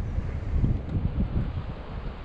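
Gusty sea wind buffets the microphone on a kayak trip near an island, swelling and easing in low rumbling waves with a faint rustle, loud and close, with no talking.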